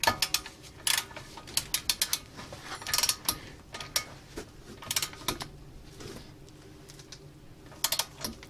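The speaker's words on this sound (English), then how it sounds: "Now it's time to apply a torque wrench to these" Torque wrench ratcheting on brake caliper bolts of a VW Tiguan during a front disc and pad job, a close series of quick metallic clicks in irregular bursts with short pauses between turns.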